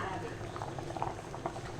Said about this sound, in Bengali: আর আমাদের এখানে খুব সুন্দর টকবক করে ফুটছে